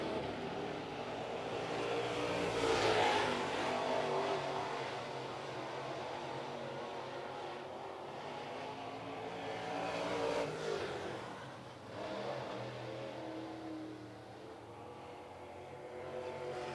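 Late model race cars running qualifying laps at Cherokee Speedway, engines rising and fading as cars pass, with two louder pass-bys over a steady roar and no talk.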